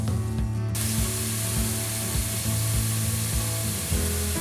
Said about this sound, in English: So we cooked our onions until translucent